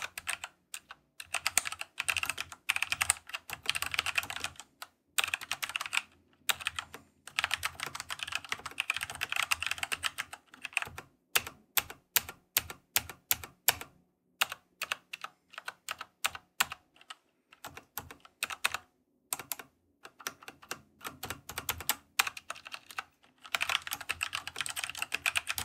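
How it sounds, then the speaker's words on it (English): Fingers type on a Keychron K2 mechanical keyboard fitted with Gateron brown switches, producing rapid, close clacking keystrokes in bursts with brief pauses, no voices present. "I have the Gateron brown switches in this."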